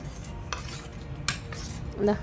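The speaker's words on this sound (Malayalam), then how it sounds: "കട്ടയില്ലാത്ത രീതിയിൽ ഇങ്ങനെ ഒന്ന് മിക്സ് ചെയ്തെടുത്തിട്ടുണ്ട്." A spoon stirs a coconut milk pudding mixture in a bowl, giving a few brief metallic clinks against the sides over a quiet background.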